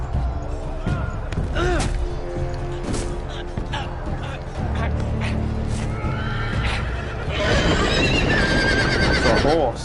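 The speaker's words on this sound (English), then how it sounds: "It's a horse." A horse neighs and whinnies loudly up close in the Telltale Game of Thrones episode Iron from Ice, with hoof clatter, impacts and game voices mixed around it, and a brighter, fuller burst of sound near the end.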